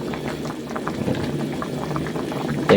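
Tinola broth with chayote and pork leg bubbling in a pot makes a steady, close boiling burble of popping bubbles, with no speech over it.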